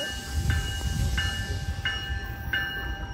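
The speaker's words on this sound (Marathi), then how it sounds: "ट्रेन आलेली आहे मस्त." A train arrives at a station in Toronto, heard as a steady low rumble of rolling cars with faint, regularly spaced clicks over several seconds.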